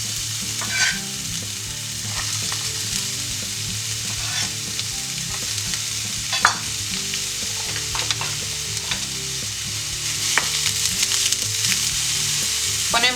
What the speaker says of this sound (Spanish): Cuando esté caliente ponemos la cebolla.